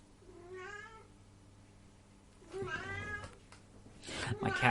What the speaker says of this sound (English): My cat's meowing at his water.